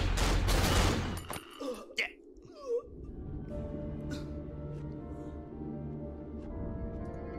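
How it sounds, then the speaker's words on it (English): Gunfire in the horror video game Cry of Fear: a loud, heavily compressed burst of shots at the start, then a few sharp reports, trailing into a low, rumbling ambient drone. "the gunshots in this game are super fucking compressed and horrendously"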